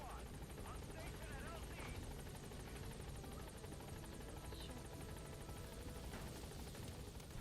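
Helicopter from the Metal Gear Solid V game arriving at a landing zone, a steady loud rotor drone and buzz throughout with faint game sounds layered on top.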